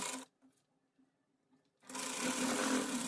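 A sewing machine runs a burst of stitching along a folded half-inch frock hem, falls almost silent with a few faint needle ticks, then starts again with a steady, close whirring run of stitches.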